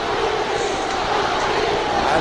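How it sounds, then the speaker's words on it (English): At Madison Square Garden, a packed boxing crowd chants for Muhammad Ali after his fight with Joe Frazier, a steady, dense roar of many voices filling the arena for the whole stretch. "And you can hear the chant in the background."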